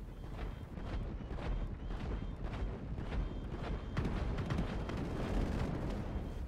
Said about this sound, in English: a lot of the time the jets will crash into the Avenger while trying to shoot it